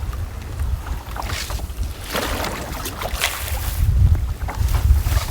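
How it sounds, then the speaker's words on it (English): Strong wind gusting across open water during a cold spring canoe trip, a loud, continuous roar and buffeting against the microphone that swells and eases, growing strongest toward the end. "Winds are gusting hard from time to time."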